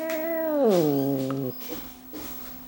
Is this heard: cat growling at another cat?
yes